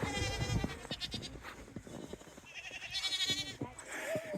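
Goats bleat outdoors in snow near a downed electric fence, a few separate calls spaced across a windy, noisy background.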